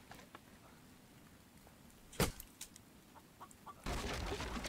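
A chicken in The Infected game gives a faint cluck amid quiet ambient game sounds, followed by a sharp close thud and a louder rushing noise near the end.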